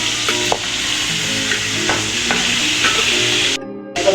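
Fish head and tail frying bhuna-style in a pan, a loud continuous sizzle broken by repeated stirring scrapes, cutting to near silence briefly before a final clatter.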